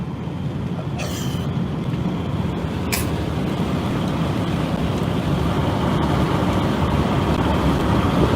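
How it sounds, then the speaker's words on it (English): Steady broadband wind roar and road rumble inside a vehicle cruising on a highway, constant and loud throughout with no talking. "So you're gonna hear a little wind. We're on the highway."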